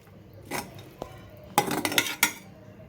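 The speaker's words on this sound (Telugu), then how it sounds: "చక్కగా వెల్లుల్లిపాయలు కలిపేసి" Metal utensil scraping and clinking against a pot of ridge gourd curry with oil cake powder and garlic in a few short bursts, close by, with no talking.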